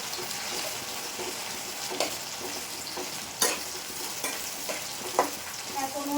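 Vegetables frying in hot mustard oil with bay leaf and onion, a steady sizzle with periodic sharp clicks and scrapes of stirring, close and continuous without talk.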